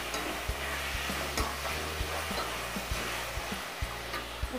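A spoon stirs chopped tomatoes and green chili through hot oil in a pan for rajma, sizzling steadily with regular scraping knocks against the pan, close and loud, with no voices.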